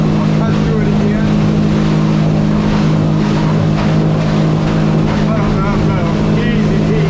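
A blue Stabicraft 1850 Fisher motorboat cuts through waves with a steady, loud engine drone and rushing water and wind throughout, without pause.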